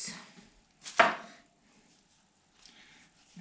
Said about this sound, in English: we're gonna cut it into